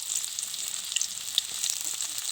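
Onions frying in a pan as the base for a local chicken curry, a steady close hiss of sizzling oil with small crackles and pops, no talking.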